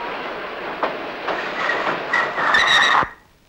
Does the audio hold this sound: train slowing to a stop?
yes